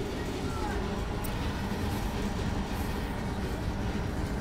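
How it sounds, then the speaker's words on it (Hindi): A passenger train in Mumbai starts moving, giving a low, steady rumble of wheels and carriage noise that stays even throughout, with faint talk in the carriage. "फाइनली ट्रेन चल गई."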